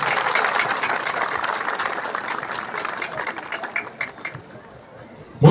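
A church-style audience in Brazil applauds at a public ceremony, with sustained, dense clapping and crowd murmur filling the room before it tapers off toward the end.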